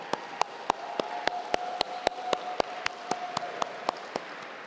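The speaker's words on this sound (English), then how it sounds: "Let's have a round of applause to thank our trustees." Audience applause at a centennial gala, heard as a steady run of evenly spaced claps that sound like a few close hands, with a faint tone sustained underneath.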